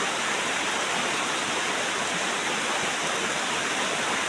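Heavy rain pours down steadily near a house with a plastic water-storage drum outside, a constant dense roaring wash with no pauses or voices.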